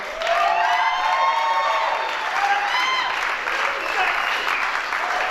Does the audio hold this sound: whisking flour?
no